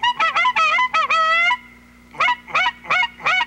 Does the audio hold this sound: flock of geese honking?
yes